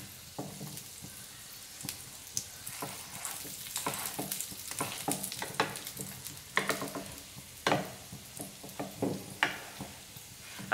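Madurai bun parotta sizzles and crackles on a hot pan after being flipped, with irregular bursts of frying and occasional sharper pops, close and moderately loud, no talking.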